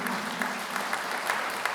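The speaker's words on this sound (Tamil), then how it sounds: "ஒரு அரங்கு நிறைந்த கைத்தட்டு" An auditorium audience at a New Year special debate show claps steadily in a dense, continuous burst of applause, loud and even throughout.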